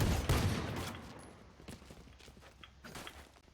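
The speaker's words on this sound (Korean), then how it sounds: "나는 총알 다 쓸 때까지 안 멈춰." Gunfire in the Valorant first-person shooter game, a loud burst of rapid shots at the start that trails off into quieter scattered pops and clatter.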